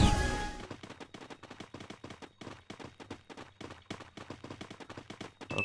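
Rapid gunfire in the Free Fire shooting game, a long burst of dense, evenly spaced shots rattling close and loud after a brief opening noise, with no talking.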